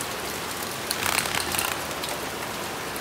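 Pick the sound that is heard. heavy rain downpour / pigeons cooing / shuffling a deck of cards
heavy rain downpour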